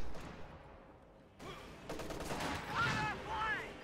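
Rapid bursts of MG42 machine gun fire in a video game break out after a quiet start and rattle on with battle noise, while voices sound over the shooting.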